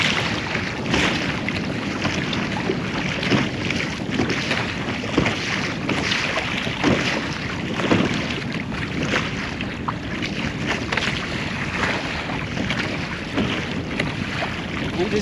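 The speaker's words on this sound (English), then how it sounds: "how these kayaks cut the waves" Kayaks cutting through waves in a sound, with close water sloshing and splashing over the hull under heavy, continuous wind buffeting on the microphone, no talking.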